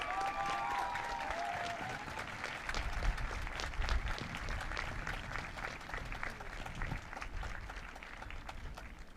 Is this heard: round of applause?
yes